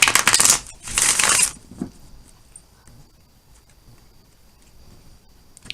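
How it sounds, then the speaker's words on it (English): Tarot cards are shuffled by hand in two loud, rustling bursts in the first second and a half, followed by quiet room tone. "I always shuffle at least a little bit on camera because I like to pick up the energies of those who will be watching"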